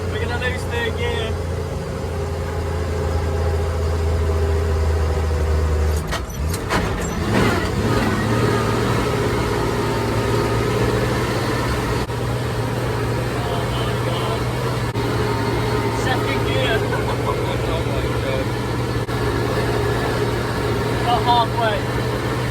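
A car engine labours in third gear, a steady droning hum that shifts pitch partway through as people talk over it.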